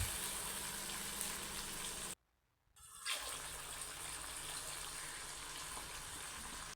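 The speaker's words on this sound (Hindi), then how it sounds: "अब हम इसमें 3 गिलास पानी के ऐड करेंगे।" Water pours steadily into roasted masala in a pot for aloo matar shorba, a continuous splashing rush that breaks off briefly and then resumes.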